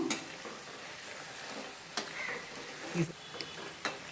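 Peanut pakoda frying in oil, a quiet continuous sizzle with a few sharp clinks and stirring taps from a utensil against the pan.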